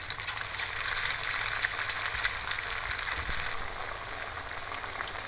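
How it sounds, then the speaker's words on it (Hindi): Semolina and potato pieces frying in hot oil over a low-to-medium flame, a continuous even hiss with a soft bubbling texture, close and moderately loud, with no voices. "तो बस इसे हमें अच्छे कुरकुरे होने तक फ्राई करना है।"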